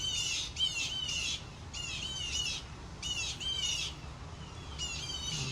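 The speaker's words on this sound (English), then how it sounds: "Even the mockingbirds are mocking me." Mockingbirds squawking outdoors, with repeated harsh raspy calls in short bursts over a steady background hum, moderately close.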